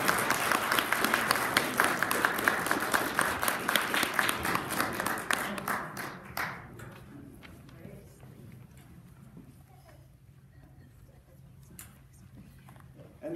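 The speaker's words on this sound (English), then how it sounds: "it's okay to give thanks for the applause." Applause from a church audience after a choir performs a cantata selection, dense clapping for about six seconds that then fades into quiet room sound with scattered faint noises.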